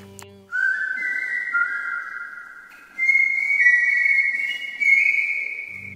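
A person whistles a tune alone, the melody held in long sustained notes that slide and step through several phrases, clear and close with only short breaths between them.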